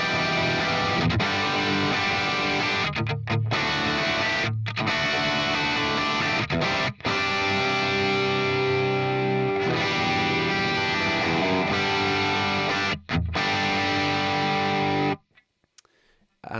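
Distorted electric guitar through a traditional Mesa Boogie cab simulation: loud, thick riffing with brief gaps and sustained chords, cutting off near the end.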